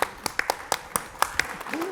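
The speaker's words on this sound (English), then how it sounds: "Let's give her a clap and welcome her up here." A handful of scattered, separate claps from audience members welcoming a speaker at a public conversation event in Melbourne, sharp and uneven, about eight hits in two seconds before tapering off.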